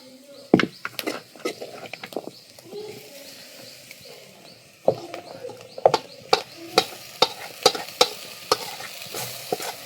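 Boiled jackfruit seeds being stirred with grated coconut in a pan, giving a run of scraping, clattering spoon strokes with a faint sizzle beneath, growing more rhythmic and sharper toward the end.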